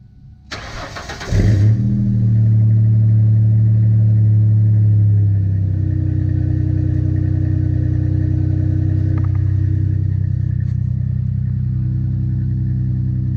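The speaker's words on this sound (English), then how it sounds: "So I think you guys deserve a cold start." A Ford Mustang V6 cold start: a brief crank, then the engine catches with a loud flare before settling into a steady, deep idle rumble that continues to the end. Nobody speaks.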